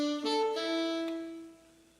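A hummed or whistled imitation of a hummingbird call, a clear pitched musical tone that steps between a few notes and then fades, alone and close.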